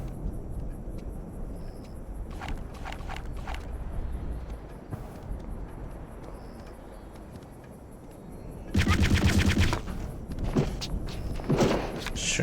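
Pistol shots in the first-person shooter Return to Castle Wolfenstein, a few sharp reports in a loud cluster partway through, alongside scattered thumps and game noise with no talking.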